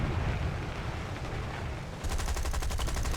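Gloster Gladiator machine guns firing in War Thunder, a dense roar of engine and fire that gives way to a rapid, loud burst of rhythmic gunfire in the last second.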